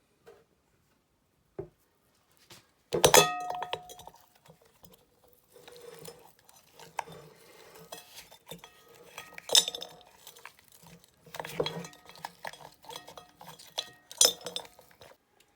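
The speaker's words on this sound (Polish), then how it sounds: "Przekładam kostki lodu do miski." Ice cubes made from frozen green orangeade are dropped into a bowl in a series of sharp clinks and clatters. A loud burst comes early and scattered rattling clusters follow over about fifteen seconds, close up and with no talking.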